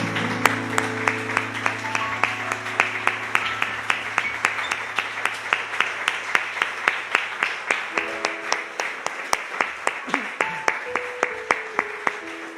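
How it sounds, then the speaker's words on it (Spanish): Congregation at a church service clapping in a steady, even rhythm for about twelve seconds, a loud continuous pulse of hand claps with a sustained tone and some voices underneath. "Damos un aplauso al Señor,"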